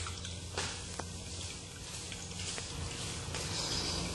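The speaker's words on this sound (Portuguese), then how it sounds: "Vamos abrir o registro de novo e ver a quantidade de água que está saindo agora" Water runs from a tap fitted with a flow reducer, a steady close hiss of spray with small drips and splashes throughout, fairly loud and continuous without talking.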